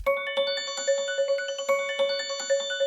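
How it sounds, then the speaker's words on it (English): A bright synthesized bell arpeggio from the Mallet Flux instrument in a trap beat, repeating quickly in an even pattern, with ringing tones layered over a steady sustained pitch, moderately loud and alone. "Mallet Flux is really good for bell sort of sounds, bell ARPs as well."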